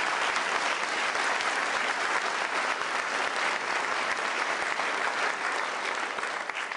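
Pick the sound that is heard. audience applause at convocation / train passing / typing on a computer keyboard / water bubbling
audience applause at convocation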